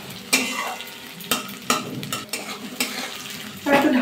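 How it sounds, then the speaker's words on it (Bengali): Potatoes frying in a pan with softened onions, a steady sizzle broken by several sharp scrapes and knocks of a spoon stirring against the pan, close and fairly loud. "আলু দিয়ে একটু ভাজা করে নেবো।"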